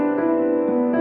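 A sustained piano chord with an added ninth, held and ringing steadily, rich and full with several notes sounding together.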